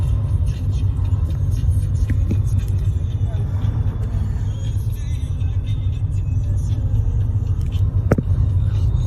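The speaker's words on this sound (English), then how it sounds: "Come for a drive down Chipping Camden." Car driving through the streets of Chipping Campden, with a loud, steady low engine and road-tyre rumble throughout, occasional faint knocks, and someone talking over the drive.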